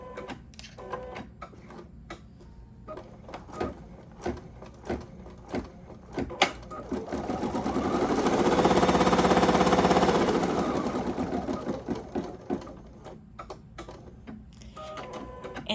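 Embroidery machine stitching, a close, steady mechanical hum with rapid needle ticks that swells to a louder sustained whir mid-way before easing back to clicking.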